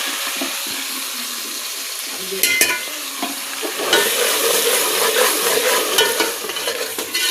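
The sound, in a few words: spices frying in pan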